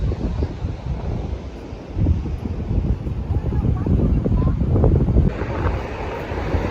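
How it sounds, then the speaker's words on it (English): Strong wind gusts buffet the microphone at an ocean beach in Shelter Cove, California, a loud continuous rushing roar that swells and eases, with surf blended underneath. "A little windy, but it's super nice."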